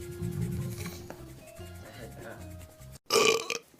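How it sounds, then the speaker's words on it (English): A man burps loudly, one long rumbling belch followed after a short pause by a second sharper burp, with some vocal sounds mixed in. "I'm burping so much"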